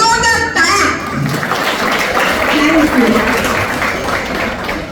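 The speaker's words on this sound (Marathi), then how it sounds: "एक जोरदार टाळ्या." An audience at a get-together gives a big, loud round of applause, a steady roar of clapping that swells after a voice briefly speaks at the start.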